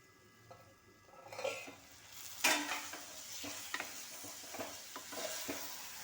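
A spoon stirs onions with turmeric and salt in a pan for chicken curry, giving quiet, scattered scraping and clinking strokes over a faint sizzle, with one sharper metallic knock partway through.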